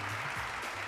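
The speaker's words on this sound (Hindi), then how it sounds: "अब जोरदार तालियां हो जाए हमारे मेंटोर्स और उनकी टीम के लिए" Audience applause on a DD Urdu television show, a brief, dense wash of clapping that stays steady for the whole second.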